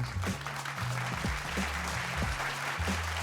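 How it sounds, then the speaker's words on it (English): Audience applause bursts out at the close of a live stream, steady clapping filling the whole short stretch at moderate loudness with no talk over it. "this deserves an applause."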